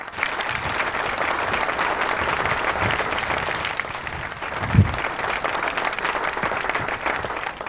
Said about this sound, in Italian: Allora vorrei ancora un ennesimo applauso a coloro che hanno voluto la manifestazione